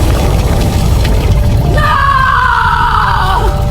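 A loud, harsh scream sound effect from a horror story about a haunted haveli, a strained wailing cry that rises and holds over a heavy, rumbling dark background for a couple of seconds.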